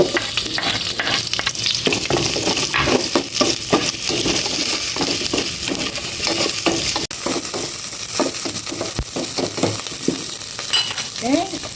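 Onion fries in hot cooking oil in a pan, with a constant close sizzle broken by frequent rhythmic scraping and clinking stirs of a utensil against the pan.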